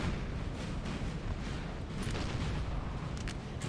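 Guard artillery batteries fire in a Napoleonic Total War 3 battle as a dense, continuous low rumble of distant cannon booms, blurred together into one heavy roll with no talk.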